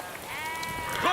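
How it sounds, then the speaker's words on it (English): A sheep bleats in a rural lane, a single drawn-out wavering bleat heard close and clear, with no talking. "Will you move your sheep?"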